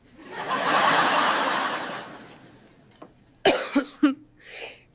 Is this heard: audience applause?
no